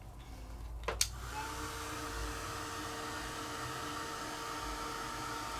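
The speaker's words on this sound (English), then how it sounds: "Now I'm doing it with a heat tool." A heat tool blows steadily to dry alcohol ink on craft foam for paper flowers, a continuous airy whir with a low hum that starts after a couple of sharp clicks near the beginning and runs on evenly.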